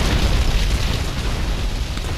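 A factory blows up in GTA Vice City, a loud, sustained rumbling explosion with heavy low booms and crackling debris lasting throughout, with no voices over it.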